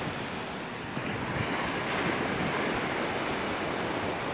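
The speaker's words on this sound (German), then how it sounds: "Das ist hier heute der Strand von Maspalomas" Surf washes steadily onto the beach at Maspalomas, a dense continuous roar of breaking waves heard alone with no speech and only slight swells in loudness.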